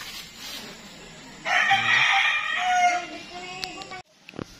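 A rooster crows loudly and close by, a long strained call rising over a noisy outdoor background, followed by a few faint clucks.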